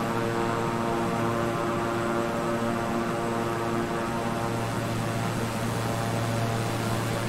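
A Beechcraft 350i twin turboprop cruising at night between Dallas Fort Worth and Austin in Microsoft Flight Simulator, a steady, loud, unbroken propeller and engine drone with constant tonal hum.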